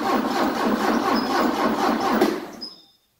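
Porsche 944 four-cylinder engine cranking on the starter during a compression test, a rhythmic whirring chug of compression strokes for about two and a half seconds before cutting off, close and alone.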